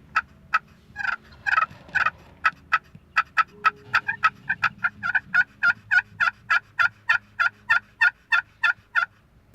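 Loud, rapid wild turkey gobbling in spring woods in Massachusetts, a long run of sharp repeated calls in quick rhythm, close by, with a brief louder burst early on.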